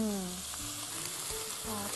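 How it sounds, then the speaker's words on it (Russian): Chicken pieces frying skin-side down in their own rendered fat in a hot pan with no added oil, a steady broadband sizzle throughout, with faint background voices and kitchen clatter. "Масла не нужно. Жарим на собственном жиру."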